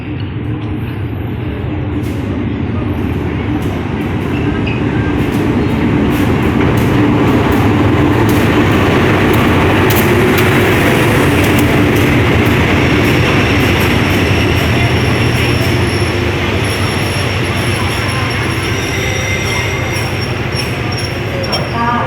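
Thai railway GEA4542 diesel locomotive hauling express train 207 into Ayutthaya station, a loud sustained rumble and rolling of wheels and wagons, with faint squeals and clatter building as the train draws close and passes.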